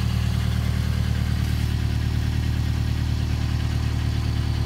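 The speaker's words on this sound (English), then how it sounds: "Sounds like it has an exhaust leak." A car idles with an exhaust leak, a steady low rumbling drone with a fast regular pulsing putter, close and unchanging for the whole stretch.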